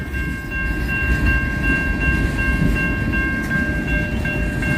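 A train rumbles past close by with a steady low roar, wheels clattering and a faint tonal whine over the noise.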